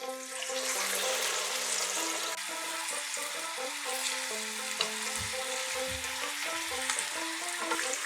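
Hot water poured into a sizzling pan of Bengali duck egg kosha curry with cauliflower, giving a steady hiss and bubbling fry that stays moderately quiet and continuous, with a faint tonal hum beneath.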